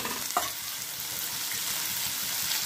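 Onions fry in a pan toward a pinkish brown, giving a steady, close sizzle with one brief stirring scrape near the start and no talk.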